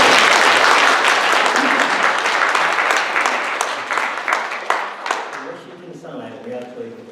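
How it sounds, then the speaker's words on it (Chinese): Church congregation applauding after a prayer, loud sustained clapping from many hands that thins out toward the end as a voice begins to speak. "我们再一次的拍手"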